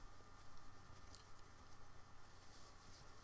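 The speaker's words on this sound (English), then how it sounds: "It's raining outside." Rain falls outside as a steady, soft patter with a faint continuous hiss, quiet and even throughout with no talking.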